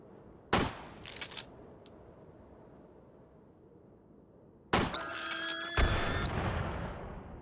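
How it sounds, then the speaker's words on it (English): A few sharp gunshots fired at drones in the VR game Hot Dogs, Horseshoes & Hand Grenades, loud and isolated with echoing tails, then a louder burst of shots and ringing impacts after a quiet pause. "A couple of shots."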